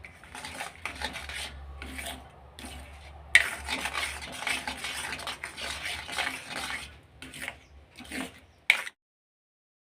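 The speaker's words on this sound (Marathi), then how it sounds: "इथे आता बारीक गॅसवरती मी हा गर आणि गूळ छान फिरवून घेत आहे" A spoon scrapes and rubs through thick wood apple pulp and jaggery in a pan over a low gas flame, rasping strokes repeating in bursts close to the mic before stopping near the end.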